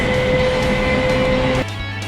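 Loud continuous rumble inside a moving train carriage with a steady whine, then an abrupt drop to a lower, quieter hum near the end as the running note changes; no voices.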